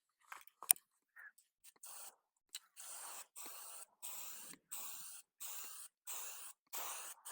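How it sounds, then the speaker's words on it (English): A spray can applying matte clear coat polyacrylic to a thrifted decor piece, heard as a string of short hissing bursts in an even rhythm, close and fairly quiet, after a few small clicks and rattles. "I'm going to spray this right where it is with some matte clear coat polyacrylic."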